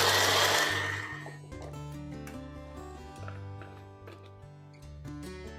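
An electric blender blitzes flat leaf parsley and breadcrumbs for crispy chicken cordon bleu, a loud whirring motor that starts with a harsh burst and then settles into a steady, slightly fluctuating hum.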